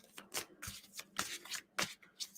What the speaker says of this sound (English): God, they're making me shuffle.